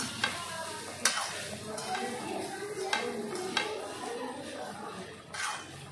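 Rice being stir-fried in a pan for sweetened pulao, a steady low sizzle with scraping spatula strokes and a few sharp clinks against the pan, close and moderately loud, no talking.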